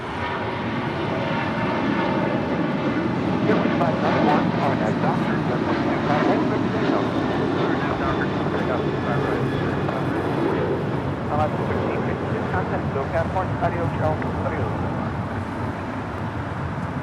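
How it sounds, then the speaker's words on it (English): Alaska Airlines Boeing 737-800 rolling down runway 25 Right at LAX on takeoff, a loud sustained jet engine roar holding strong throughout, with a voice talking over it. "Next departure, Alaska Airlines Flight 1352, heading to San Jose, Costa Rica. 737-800,"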